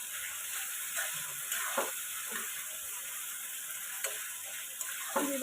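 Chilli chicken frying in a pan and being stirred, a soft, steady sizzle with occasional light scrapes and taps of the spatula, fairly quiet and close, no talk.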